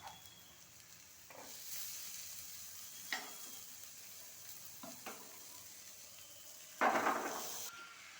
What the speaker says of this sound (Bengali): মটর দিয়ে 5 মিনিটের মতো কিছুক্ষণ নাড়িয়ে নেব